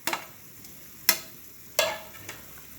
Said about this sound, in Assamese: এতিয়া ইয়াতে মই কাটি লোৱা 2টা জলকীয়া দিম।